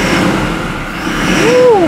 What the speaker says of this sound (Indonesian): Kita gas dikit ya biar dengar suara mesinnya.